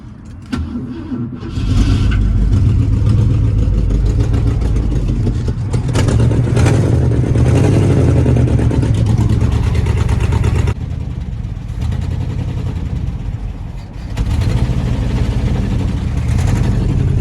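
1966 Ford Thunderbird engine cranking and catching, then a loud running idle with throttle blips and revs rising and falling, briefly dropping back to a lower idle before revving again.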